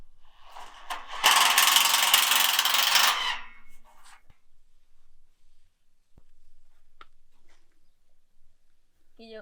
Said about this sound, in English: is now screwing it from the inside face